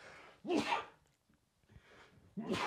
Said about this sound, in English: hang on, I'm gonna sneeze real quick